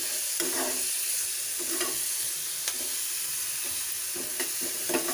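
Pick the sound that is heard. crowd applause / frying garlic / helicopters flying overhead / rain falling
frying garlic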